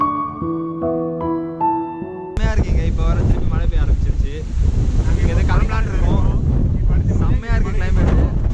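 After a short musical intro, strong wind during rain in Chennai buffets the microphone in a loud, rushing roar while a person speaks over it.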